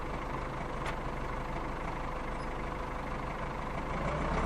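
A video game tractor engine drones steadily at a constant loudness, a dense low rumble with no gear changes or pauses throughout.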